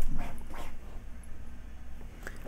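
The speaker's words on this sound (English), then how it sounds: "That was my dog, Bowser." A pet dog nearby whimpers and gives a couple of sharp barks at the start, then whines softly under a steady background hum in a room.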